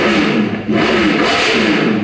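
An Aprilia RSV4 motorcycle fitted with an SC Project muffler revs close by, its engine note rising and falling in a loud continuous roar with a brief dip partway through.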